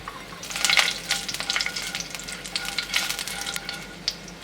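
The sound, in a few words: cumin and asafoetida frying in hot oil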